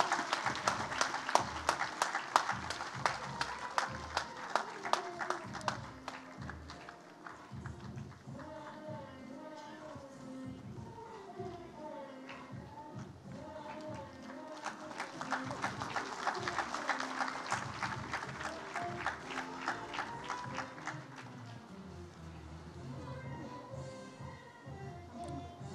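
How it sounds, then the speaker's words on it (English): Dense audience applause at an International Day for Biological Diversity 2022 celebration rolls on, swelling twice, with music playing underneath throughout; the clapping stays fairly distant and steady. "Can we have a big round of applause"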